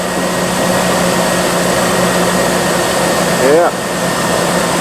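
A 2002 GMC Sierra engine runs steadily with its belt and pulleys turning, a continuous close mechanical drone with a brief rising whine near the end and a voice speaking faintly underneath.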